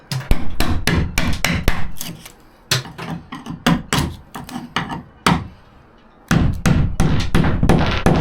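A hammer drives a chisel through wooden dowels, delivering rapid close blows in bursts of several sharp knocks each, separated by short pauses, with a longer gap before a final dense flurry of strikes.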